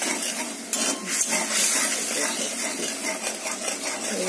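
Khoira fish simmering in a fried spice masala, giving a steady close bubbling sizzle with faint scraping and clinks from a utensil, no voices.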